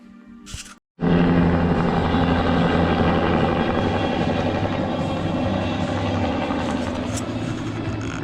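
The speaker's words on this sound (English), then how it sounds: "today he lands his helicopter in his backyard" A neighbour's helicopter landing in a nearby backyard gives a loud, continuous rotor roar and engine drone that cuts in abruptly and holds steady close by, with no talk.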